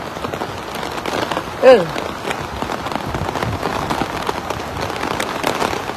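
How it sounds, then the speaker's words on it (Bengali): Heavy rain in Dubai pours down steadily, a dense continuous hiss of drops hitting surfaces nearby, with one brief faint sound partway through. "প্রচুর বৃষ্টি হচ্ছে প্রচুর সব ভিজে গেছে"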